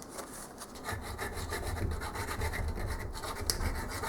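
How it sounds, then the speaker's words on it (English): Hand filing on metal parts of a lathe compound slide and toolpost using needle files, quick repeated scraping strokes in a steady back-and-forth rhythm, close but fairly quiet with no talking. "Get out the needle files and settle in for a really boring filing job."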